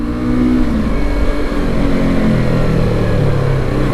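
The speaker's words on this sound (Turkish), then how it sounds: "katalizörü boşaltınca çok güzel bir egzozdan tatmin edici bir ses geliyor" A Yamaha R25 motorcycle exhaust with the catalytic converter removed rumbles loudly and close by, a deep, steady engine growl with slight revving throughout.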